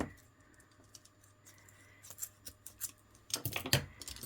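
Scissors cutting up broken jewellery, faint snips and small clicks building into a louder cluster of sharp cuts near the end, with quiet handling noise and no talking.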